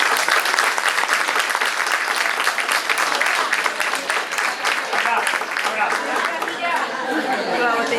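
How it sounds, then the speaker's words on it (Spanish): Audience applause at a cultural-week talk on French champagne in Cadreita, a dense steady clapping that fills the whole stretch, with crowd chatter mixed in and thinning slightly toward the end. "Bueno, un aplauso."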